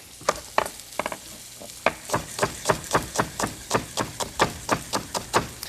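Small zucchini and green onions sizzle in a hot pan while being stirred, with a steady frying hiss under a regular series of sharp utensil taps and scrapes, close and fairly loud.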